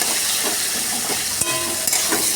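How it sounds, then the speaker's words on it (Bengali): Onions fry in a pan of hot oil with whole spices, a close, steady crackling sizzle with a couple of brief metallic knocks from the utensil partway through. "পেঁয়াজ আমি আজকে ভেজে দেবো"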